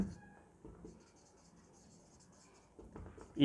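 Quiet scratching strokes of handwriting come in short bursts as a maths answer is written out, faint and close, with no talking.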